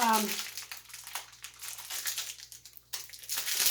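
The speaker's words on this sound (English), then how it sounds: "Let me get the cheese and stuff opened up real quick here." Plastic cheese packaging crinkles and rustles close by in a home kitchen. The crackling comes in irregular bursts and short pauses, fairly quiet overall.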